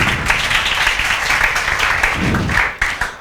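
A classroom full of students claps continuously, the dense patter loud and near, with a few sharper individual claps standing out as it winds down.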